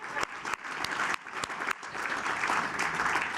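A room full of people at an award gala claps, starting with scattered sharp claps and swelling into sustained, dense applause at moderate volume.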